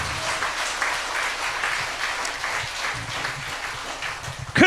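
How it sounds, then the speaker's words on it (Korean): Church congregation applause during a sermon, a dense sustained crowd clapping filling the hall, steady and loud throughout with no voice over it. "하나님께 영광의 박수"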